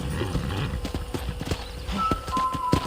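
Horse hooves clip-clop steadily and close on ranch ground in the PC video game Red Dead Redemption, with a brief whinny near the end and no talking.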